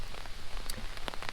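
Rain pattering steadily on surfaces during a storm delay at an outdoor criterium bike race in East Tosa, with scattered distinct drops ticking sharply over a soft continuous hiss, brief and close.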